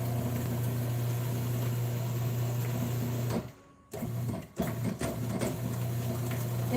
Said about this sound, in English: It's a really easy recipe to make if you have a food processor.